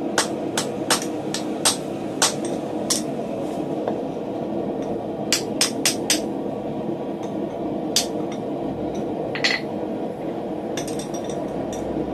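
Sharp metallic hammer strikes ring out over a steady low forge roar as a blacksmith works on a nail header, falling in irregular clusters of close-up clinks with short gaps between them.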